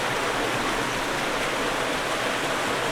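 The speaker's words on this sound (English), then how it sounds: "Here we are on the downhill side of the creek," Creek water rushing at a road culvert below a small dam, a loud steady broadband roar of flowing water, close and unbroken throughout, with no talking.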